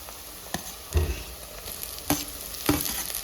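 Onion, green chilli and tomato fry in a pan for a puffed-rice dish with a constant close sizzle. Four or so distinct spatula scrapes and clunks against the pan punctuate it, and no voices are heard.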